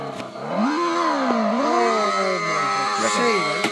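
A children's rechargeable toy sports bike plays its built-in electronic engine sound, a loud, close synthetic revving tone that swoops up and down in pitch like a motorcycle being throttled.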